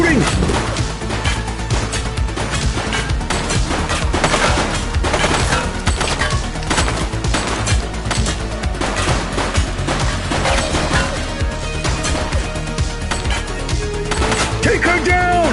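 Sustained gunfire in the police action game The Precinct, dense continuous volleys and impacts layered under game music and overlapping voices, loud and unbroken throughout.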